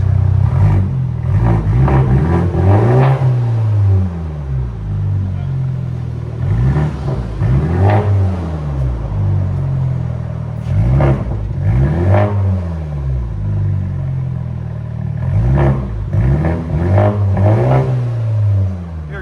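A 2021 BMW M430i with a 2.0L turbo engine and straight pipes revs repeatedly in loud, close bursts, each rising and falling over a steady rumbling idle, about five pulls in sequence.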